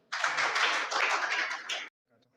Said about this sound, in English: So please welcome my senior Syed Abrar with big round of applause for introduction.